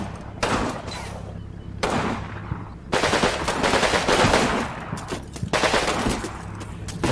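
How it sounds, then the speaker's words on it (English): Bursts of gunfire from a building in the WWII wargame Combat Mission, loud clustered volleys of rifle and machine gun shots separated by short gaps, no voices. "there's still people shooting from the other building"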